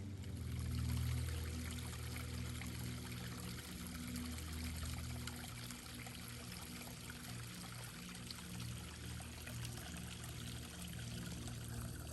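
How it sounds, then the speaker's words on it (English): Soft, steady trickle of running water from a small stream, faint and continuous, with a low rumble early on and no talking. "that is a running stream right there"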